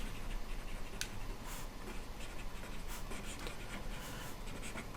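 A pen scratches out a Riemann sum math problem in steady, continuous strokes, with a few sharper taps, against faint background noise and no voices.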